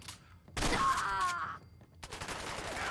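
Gunfire in the video game Fallout 4, several loud bursts of shots crackling close by inside a building, with brief gaps between volleys and a voice heard in the mix.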